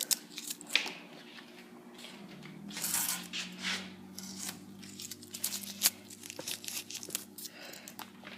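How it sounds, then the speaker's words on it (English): Tape is peeled off a 1966 Mustang in a series of short, crisp tearing and crinkling rips, close and fairly quiet, with small clicks between pulls. "remove your tape"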